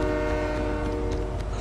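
A train in a video game sounds a sustained, droning horn over the low rumble of the moving train, loud and unbroken throughout, with no talking.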